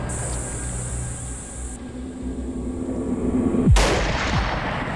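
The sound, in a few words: rifle gunshot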